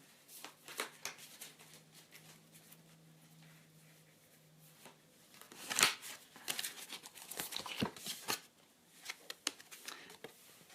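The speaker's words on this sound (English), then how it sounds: "Right, just shuffle them all up again." Tarot cards are riffled and shuffled in quick bursts, with soft crinkling and tapping between the bursts, close and fairly quiet.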